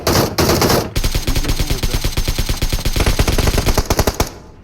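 Rapid automatic gunfire in the mobile battle-royale game PUBG Mobile, a loud, close, sustained burst of evenly spaced shots after a brief opening volley.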